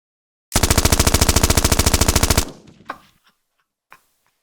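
A long burst of rapid machine gun fire, loud and evenly spaced, cuts off after about two seconds, followed by a couple of scattered distant shots.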